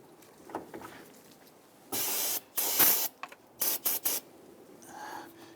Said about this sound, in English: We are going to go ahead and spray this down with some solvent to clean that up.